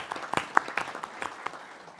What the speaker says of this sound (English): I would love it if we could give a round of applause and great gratitude to Steve